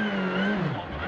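A rally car drifts across slippery dirt on an uphill hill-climb course, its engine loud and close with a tone that rises and then sags as the car slides.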